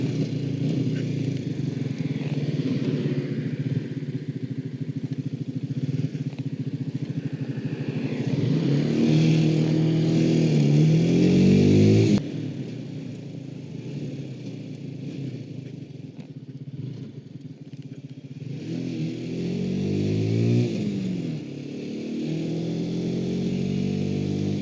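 A 2006 Honda CBR 125 JC34 motorcycle being ridden, its small engine droning steadily and rising in two clear revving accelerations, heard loud and close with wind rush and no talk.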